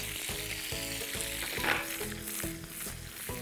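Onion sautés in hot oil with asafoetida, curry leaves and dried red chillies, giving a close, continuous sizzle with faint stirring scrapes and no talking.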